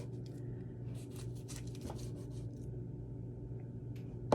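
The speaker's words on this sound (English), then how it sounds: "And then do it again, cut it in half," A wet knife saws through a sushi roll made with a Tupperware sushi maker, giving soft repeated rubbing strokes close up over a low background hum, ending in a sharper tap.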